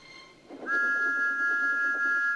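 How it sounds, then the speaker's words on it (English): A steam engine whistle from Thomas the Tank Engine sounds a single steady, piercing note that holds for nearly two seconds over a low rumble, loud and close. "Thomas's whistle soon woke them up."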